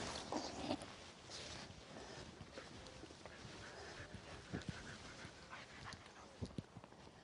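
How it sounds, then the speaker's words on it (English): A herding dog moves among cows in a barnyard, giving faint panting and a few scuffling sounds over a steady, noisy outdoor background, quiet and some distance away, with no clear barks. "I'm going to stand back and let Jilly go ahead with her dog to show me how the cows react"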